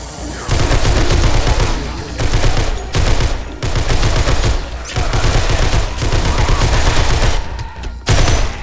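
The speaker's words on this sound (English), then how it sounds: "Let's get the assault rifle out." Rapid automatic assault rifle fire in the zombie game 7 Days to Die: loud sustained bursts of dense gunfire with brief pauses between volleys, close and dominant throughout.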